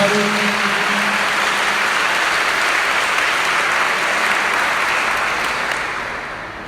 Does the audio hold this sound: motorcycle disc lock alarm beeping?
no